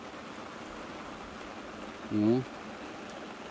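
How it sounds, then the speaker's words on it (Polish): All-day rain in Romania falls as a steady, even hiss, with one short spoken word breaking in briefly near the end. "No ale pada cały dzień."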